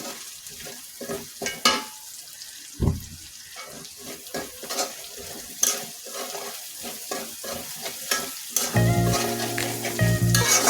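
Dried chillies and onions fry in a pan, a loud close sizzle broken by repeated scraping stirs, with a clunk of the utensil and a burst of running water near the end.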